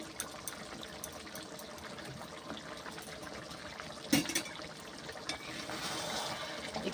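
Hyderabadi chicken kosha simmers in a pot, giving a faint, continuous bubbling and sizzling with one brief clatter partway through.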